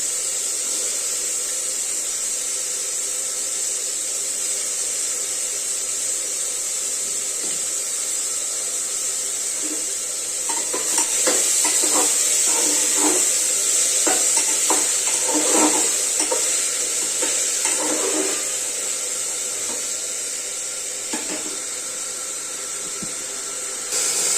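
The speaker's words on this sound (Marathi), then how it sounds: "आता आपण यात राजमा आणि बटाटा शेंगदाणे हे सगळे आपण परतायला टाकूया एक मिनिट छान परतून घ्यायचं हे सगळं" Rajma, potato and peanuts stir-fried in a pan for rajma masala rice, a steady hiss of frying with a cluster of scraping, clattering stirring strokes in the middle, no talk.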